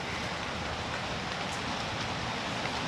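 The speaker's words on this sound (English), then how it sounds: "I'm happy with all this rain." Steady rainfall over a suburban garden in early autumn, a constant even hiss of drops on plants and surfaces with no pauses, close and moderately loud, no voices.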